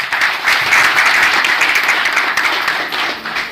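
A crowd applauds Tata employees at a retirement function, dense and loud clapping sustained throughout, close and without talk.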